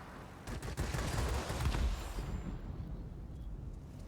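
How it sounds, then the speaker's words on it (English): Machine gun fire from an I-153P biplane in World of Warplanes, a dense rattling burst of a couple of seconds that fades into a quieter engine drone, with no talk over it. "Still managing the guns very carefully. 2, maybe 3-second bursts."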